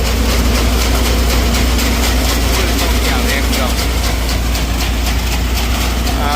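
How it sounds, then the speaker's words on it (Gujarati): Small Eicher 188 tractor engine running on a farm, a loud, steady diesel chug with a constant low throb and a faint rhythmic pulsing, sounding close by. "આ ઝીણકું ટ્રેક્ટર છે આઈસરનું 188 છે"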